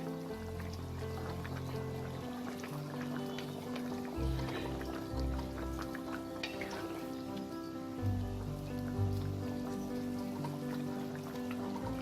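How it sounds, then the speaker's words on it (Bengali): Bengali bhetki fish curry with potato and cauliflower bubbling steadily in an uncovered pan, a soft continuous crackle and patter of simmering liquid with faint kitchen clatter, heard up close and alone. "এটাকে আমি আর 2-3 মিনিট ফুটিয়ে নিলেই আমার মাছের ঝোলটা একদম রেডি"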